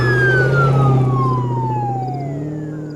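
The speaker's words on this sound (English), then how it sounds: "there's cop cars speeding off with the sirens going" Police car sirens wail loudly and steadily with descending pitch sweeps, as vehicles speed away, the sound fading slightly toward the end.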